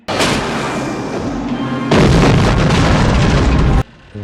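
Film soundtrack of a bomb dropped from the air in the 1987 James Bond film The Living Daylights, heavy roaring explosions in two loud sustained bursts that stop abruptly, with no talking.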